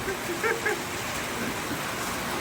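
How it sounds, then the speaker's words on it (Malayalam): Steady heavy rain hisses across the whole clip, a dense even wash of noise with a few faint voice-like tones near the start. "അമ്മാതിരി മഴ പെയ്യുന്നേ ഭയങ്കര മഴ"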